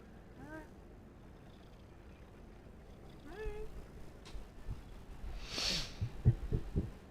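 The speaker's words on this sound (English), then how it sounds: "kitty cat makes noise" A cat meows twice, short rising calls a few seconds apart, close and fairly quiet, followed by louder handling and thumping noises nearby.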